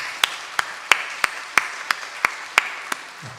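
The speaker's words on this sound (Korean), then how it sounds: "우리 박수로 환영하겠습니다" A Korean Methodist church congregation at a Sunday morning service claps to welcome a new choir accompanist, heard as a sparse run of about ten separate, evenly spaced sharp claps.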